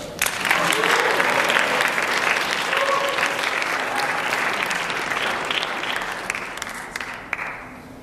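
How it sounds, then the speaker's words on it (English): A college audience at Canisius College claps for student election candidates, loud sustained applause rising quickly and slowly tapering toward the end. "You may now clap."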